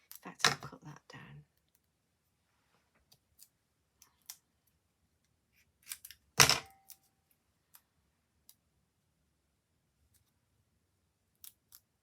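Scissors snip paper during a rubber-stamping craft demo: a quick cluster of close, crisp cuts at the start, then a few scattered clicks and one sharper snip, with near silence in between.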